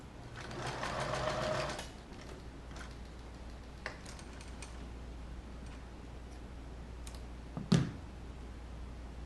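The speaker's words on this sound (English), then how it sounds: "I need to go back and do a back stitch" A sewing machine back-stitches a leather shoulder bag in a short burst of rapid mechanical whirring, then stops and leaves quiet room tone, a few light clicks and one sharp knock.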